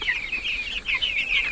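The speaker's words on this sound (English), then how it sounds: "We got 100 meat birds going in here right now." A crowd of about 100 young meat chickens in a wooden brooder built to a Joel Salatin design, giving steady overlapping high peeps and chirps close by with no voices.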